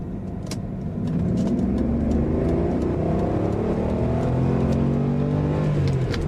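A BMW car accelerates hard on the Autobahn, its engine note rising in pitch through the gears as road and wind noise swell, loud and steady after a brief quieter start.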